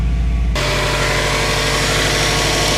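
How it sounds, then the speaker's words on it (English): A Subaru engine cranks and catches, then settles into a steady, loud idle with an even low rumble close by and no one speaking. "Start her up."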